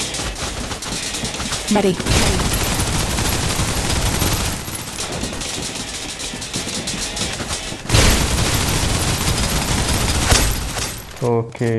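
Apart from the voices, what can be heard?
turret gunfire in video game Snowbreak Containment Zone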